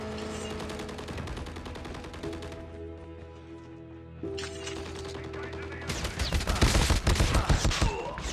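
Gunfire in the mobile shooter Call of Duty Mobile, layered game audio with sustained tones and then rapid automatic bursts that grow loud and dense toward the end, firing in quick repeated volleys.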